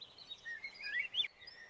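A cartoon bird sings a short, high, warbling thank-you song, a rising and falling chirpy melody lasting under two seconds, moderately faint and heard alone.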